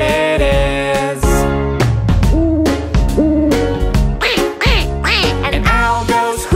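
A voice imitates an owl, singing repeated hoots over a bouncy children's song with instruments in an animal-sounds nursery rhyme. The hoots come loud and close in a regular rhythm alongside the music.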